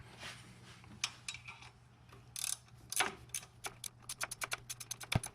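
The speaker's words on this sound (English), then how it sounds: "I'm using a ratcheting wrench," A 12mm ratcheting wrench tightening bolts on an Altima water pump gives quiet, scattered clicks that build into a quick rhythmic run of ratchet ticks at the end.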